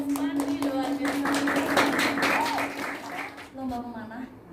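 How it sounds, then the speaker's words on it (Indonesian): Audience clapping for students after a school mascot dance performance, a brisk stretch of many hands applauding under a host's amplified voice, which continues speaking as the clapping fades. "kita tepuk tangan adik-adik Lesmani, luar biasa"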